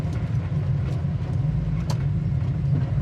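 A 1968 Chevrolet Camaro SS 396 engine drones steadily and loud as the car pulls through its gears, with a low rumbling tone and no talk.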